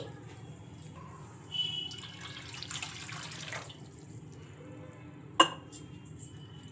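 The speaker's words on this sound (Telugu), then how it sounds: "ఇప్పుడు ఇందులో మునిగే వరకు మంచినీళ్ళు అయితే వేసుకోవాలి" Drinking water poured into washed rava for idli, a short gentle splash and trickle into a bowl, followed by a sharp clink, with no speech.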